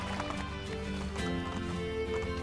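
A horse gallops in Assassin's Creed: Brotherhood with quick, continuous clip-clopping hoofbeats under game music, close and steady for a couple of seconds.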